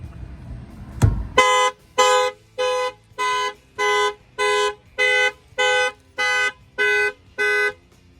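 A Mercedes E300 factory car alarm blares in a steady rhythm of about ten evenly spaced loud honking bursts, following a single thump, close by with no talking.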